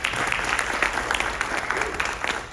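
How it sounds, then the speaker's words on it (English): A live audience at an Indian classical music festival lecture demonstration breaks into steady applause, many hands clapping continuously and fairly close, with no speech over it. "a round of applause for her."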